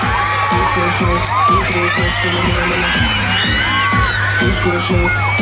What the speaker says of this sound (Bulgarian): Така че много шум за Дени! Силни аплодисменти!